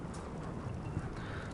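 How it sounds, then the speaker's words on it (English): Horse hooves clip-clop in the Game of Thrones Telltale video game, a steady close patter over a dense game soundscape. "Horse. Let's go pet a horse."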